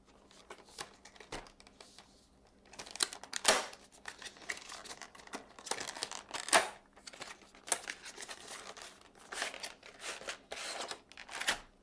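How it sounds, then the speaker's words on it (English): Plastic packaging ripped and crinkled while a Samsung Galaxy J1 phone is pulled from its box and plastic container, heard as quiet, close crackles and tearing snaps in irregular bursts. "let's go ahead and rip this thing out of the box"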